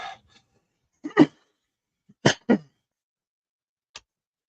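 A few short, dry coughs come one at a time, close by, with quiet pauses between them.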